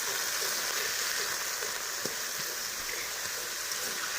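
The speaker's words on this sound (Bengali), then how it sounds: "তো এখন পেঁয়াজগুলো যে একসাথে হয়ে যেত ওগুলো নাড়াচাড়া করে করে দিচ্ছি।" Baby potatoes and onions frying in oil give a steady, even sizzle with a faint stir at one moment. It runs unbroken and fairly quiet, with no voices.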